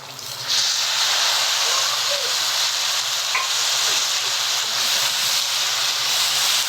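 Tomatoes hit a hot pan for a simple pasta and sizzle loudly and steadily, a broad frying hiss with a bit of stirring, close and continuous with no talk.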